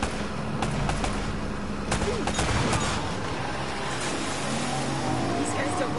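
Rapid gunfire bursts from the Uncharted video game, with Drake in a firefight, crackling steadily over a continuous backdrop of engine rumble and game noise, with speech-like voices mixed into the din.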